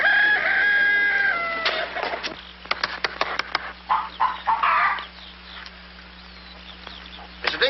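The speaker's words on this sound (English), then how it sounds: "I'm going to tap every one of those hens till I find the one that lays the golden egg." A rooster crows loudly up close, then hens cluck in short, scattered bursts, with a second crow near the end, all in a farmyard with no talk.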